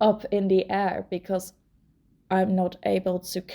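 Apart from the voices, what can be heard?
No everyday noises stand out.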